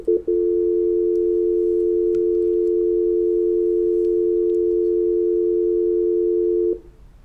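A steady telephone dial tone after a caller is cut off on a phone line, one unbroken loud hum holding for over six seconds before stopping abruptly, with no talk over it.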